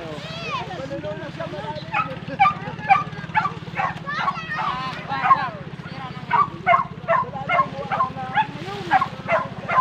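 A dog barks repeatedly in short, sharp bursts, loud and close, over a steady low engine hum.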